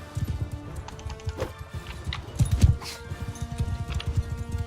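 Horse hooves clip-clopping in the medieval combat game Mount and Blade II: Bannerlord, a steady galloping rhythm of close, repeated hoofbeats with faint background game noise throughout.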